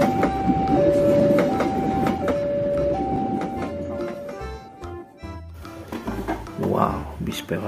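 An electric commuter train (KRL) passes nearby with rumbling wheels and clacking over rail joints, while a voice talks over it and a steady tone shifts in pitch.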